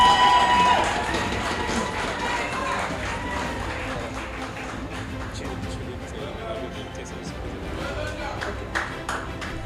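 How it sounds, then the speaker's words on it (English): Audience at a gala honoring student athletes applauds and cheers, a broad continuous wash of clapping and crowd noise heard throughout, with a few brief voices rising over it. "Can we give him a bigger round of applause"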